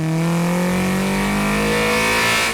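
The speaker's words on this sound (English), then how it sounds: "I also added a K-tune velocity stack because the filter was getting pretty worn out, and that added a crazy amount of induction noise." Mazda 3 engine with a K-tune velocity stack and worn filter revs up, its loud induction roar climbing steadily in pitch as it accelerates, close and continuous.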